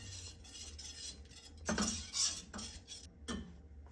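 A spoon stirs mushroom bouillon into a chicken pot pie sauce, making quiet scraping interrupted by a few distinct clinks of metal against the dish.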